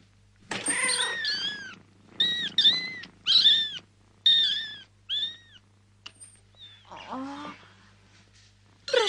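A cat meows again and again in a quiet indoor room in a 1977 horror film, about seven short, clear mews in irregular bursts separated by silence.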